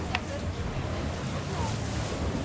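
Sea waves rolling onto the shore at the Zhelezny Port resort, a continuous broad wash and hiss of surf mixed with wind buffeting the microphone and faint voices nearby.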